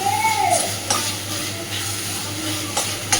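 Pointed gourd paste frying in a pan while being stirred, a steady sizzle with scraping spoon strokes and soft clinks against the pan throughout.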